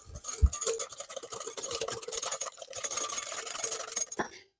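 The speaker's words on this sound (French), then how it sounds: "Deux œufs, 50 grammes de sucre. Et on va bien mélanger le tout." Eggs and sugar are whisked together in a bowl, giving a rapid, close clatter of utensil against the sides, steady for several seconds before stopping abruptly.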